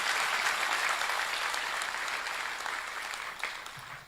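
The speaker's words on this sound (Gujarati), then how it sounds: "એર ઇન્ડિયાના પાયલોટો માટે તાળી બજાવો" An audience at a convention of the Akhil Bharat Ladi Lohana Sindhi Panchayat applauds, acknowledging Air India pilots. Many hands clap in a thick, continuous wash that holds steady, then tapers slightly toward the end.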